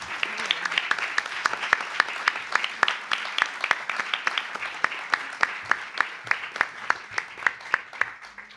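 Audience applause after a lecture on political thought, a moderately sized crowd clapping in a fairly regular, rhythmic pattern, steady for over eight seconds at close range.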